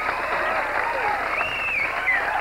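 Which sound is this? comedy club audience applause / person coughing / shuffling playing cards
comedy club audience applause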